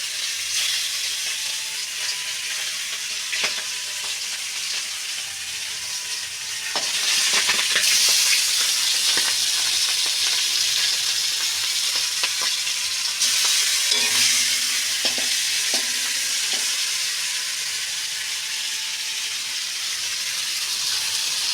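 Pangas fish fries in hot oil with a loud, continuous sizzle and hiss, intensifying partway through, while the skin pops and crackles in short bursts near the end; no one speaks.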